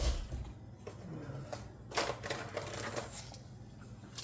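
A Sharpie S gel marker scratches across paper in short, soft strokes, close and fairly quiet, with faint rustling in between.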